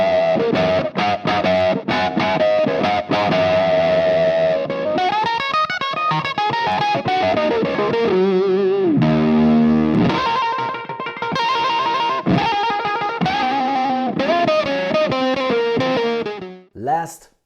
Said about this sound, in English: kicking off the fuzz when I use the Octavio or the Octavix